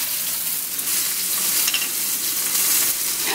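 Hot grease frying in a cooking video game, a steady loud sizzle with crackling bursts that carries through without pause.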